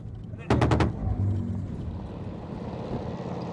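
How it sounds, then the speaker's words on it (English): Frontline fire near Soledar in the Ukraine war, a sharp burst of rapid gunshots followed by heavy rumbling thuds fading into a low continuous roar, with a voice speaking over it. "the ground shakes with the incessant thud of artillery"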